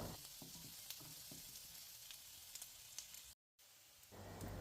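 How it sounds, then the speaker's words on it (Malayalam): Sliced onions frying in hot oil for a fried chicken biryani give a steady close sizzle with small crackles, broken by a brief dropout near the end. "ആ എണ്ണയിലോട്ട് നമ്മുടെ സവോളയൊക്കെ ഇട്ടിട്ട് നല്ലോണം ഒന്ന് മൂപ്പിച്ചെടുക്കാം"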